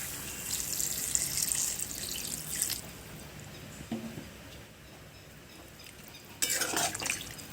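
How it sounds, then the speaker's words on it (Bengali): Water is poured into a cooking pot of simmering vegetables, a close splashing gush at the start, then a quieter stretch and a second short burst of pouring near the end. "এখন আমি জল দিয়ে দিচ্ছি।"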